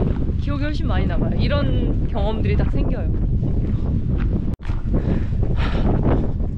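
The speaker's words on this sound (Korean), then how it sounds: "바람 소리가 더 잘 들리고 내 목소리가 안 들릴라나?" Strong wind buffets the microphone on a walk from Fira to Oia on Santorini, a constant loud rumble under a person talking throughout.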